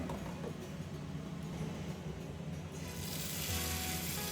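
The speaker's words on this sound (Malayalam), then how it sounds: "അപ്പോൾ മീനൊന്ന് ഫ്രൈ ചെയ്തെടുക്കട്ടെ" Marinated fish frying in a pan, a steady close sizzle of hot oil that grows hissier and brighter toward the end.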